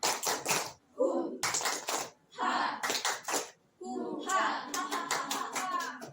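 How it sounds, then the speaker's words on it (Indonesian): A class of schoolchildren performs a rhythmic patterned clap in bursts, sharp claps separated by short pauses, with children's voices chanting along between and over the clapping. "Tepuk semangat"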